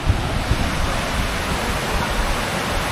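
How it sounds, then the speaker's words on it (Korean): Rushing water from a stream below a waterfall near a highland campsite, a steady dense broadband roar that continues without pause, loud and close, with no voices. "여기 물소리가 엄청 많이 들려요."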